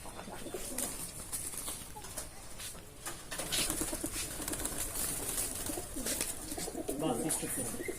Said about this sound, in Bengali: এখানে মোট 40টা কবুতর থাকতে পারবে